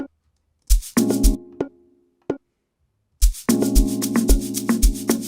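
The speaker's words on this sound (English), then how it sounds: "So I'm adding this bongo." Bongo hits layered over an amapiano beat with randomized velocity: a few sparse hand-drum strikes first, then a dense, steady groove of percussive hits over a sustained tonal bed, with no talking.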